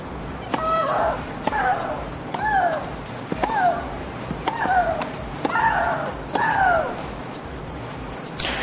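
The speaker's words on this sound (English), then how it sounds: "she holds the record for the loudest grunt at Wimbledon, 105 decibels back in 2009" A tennis rally at Wimbledon: sharp ball strikes every second or so, each followed by a loud, drawn-out wailing grunt that falls in pitch.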